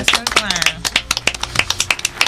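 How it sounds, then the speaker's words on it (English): Several people clap in quick, uneven bursts close by, the slaps landing under loud, overlapping talk and laughter throughout. "We have clapping."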